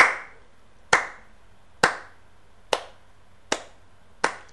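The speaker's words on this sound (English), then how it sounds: "maybe a clap" Single clap sample triggered in FL Studio, five sharp, bright hits spaced roughly evenly about a second apart, each with a short decaying tail, close and dry with no other sounds.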